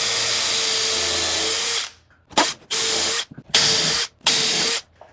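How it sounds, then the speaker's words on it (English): A power drill drills holes in wood, whirring steadily for nearly two seconds, then running in several short bursts with brief pauses between them, close and loud. "I'm going to drill these out a little bit more so I don't split this backwood"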